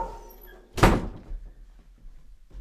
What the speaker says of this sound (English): I'm going to close my door so you guys don't hear this dog barking.